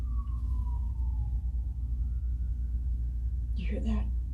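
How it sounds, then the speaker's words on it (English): A police car siren passes outside, heard as a faint, distant wailing tone that slowly dips and rises over a steady low rumble, with a brief closer noise near the end. "Another cop car or an ambulance one. Sound like a police car."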